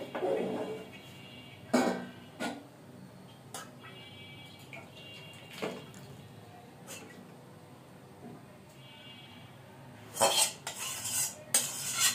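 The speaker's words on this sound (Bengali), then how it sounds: "মাছের তরকারিটা আমি একটা বাটিতে ঢেলে নিচ্ছি" Metal and ceramic clinks and scrapes ring out near and fairly loud as home-style fish curry is transferred from the pot into a bowl, with a cluster of sharp knocks at the start and a busier burst near the end.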